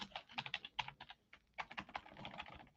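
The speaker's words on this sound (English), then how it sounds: "let's type in the word Gentile" Quick bursts of keystrokes on a computer keyboard, close and crisp clicking in an uneven rhythm with short pauses, heard alone and fairly quiet.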